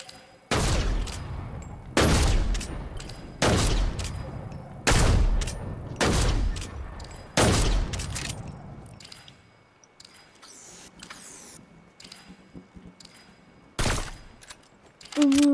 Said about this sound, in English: An automatic sniper rifle.